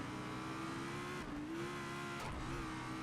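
Racing car engine from Race Driver GRID driving over bumps, a sustained high rev drone with short jolting dips and a sharp thump near the end, loud and continuous with no talking.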